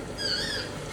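A pet bird gives a thin, high squeaky call, one short wavering note rising and falling, close and fairly clear over a low indoor hum.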